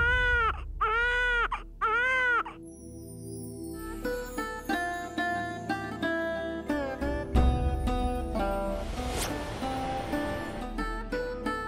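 A child cries loudly nearby in three rhythmic wailing bursts with no talk, then dramatic orchestral music takes over and swells through the rest of the scene in a historical television drama.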